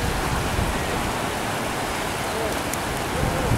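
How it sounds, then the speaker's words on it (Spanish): Flooded stream water rushes past houses near San Lorenzo, carrying debris in a steady, dense, roaring wash that stays constant throughout. "el agua está arrastrando todo tipo de objetos"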